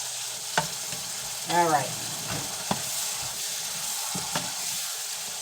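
Cheesesteak filling frying in a pan for open-face cheesesteaks gives a steady, close hiss with a few sharp clicks and a brief scraping stir, and a short spoken remark comes in near the start.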